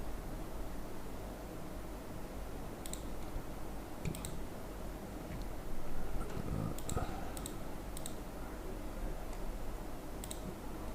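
Mouse clicks during blog post editing on a computer, several faint, sparse clicks over a steady hiss with no talk.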